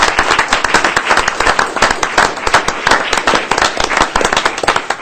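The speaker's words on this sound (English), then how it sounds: "I would love to give all the nominees as well as award winners a complete round of applause" Loud, dense applause fills an awards presentation evening as the crowd claps for nominees and winners, sharp close claps crackling continuously with no pauses.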